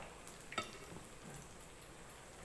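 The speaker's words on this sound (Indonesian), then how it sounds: "Goreng dia sampai dia kuning-kuning ke." Taro cakes (kuih keladi) frying in hot oil, a faint, steady sizzle with a single brief clink near the start, heard alone without talk.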